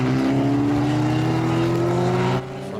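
Race cars roar across the finish line at the Kirkistown circuit during a 500MRCi race meeting, a loud sustained engine drone with rising pitch that cuts off abruptly near the end, with no talk.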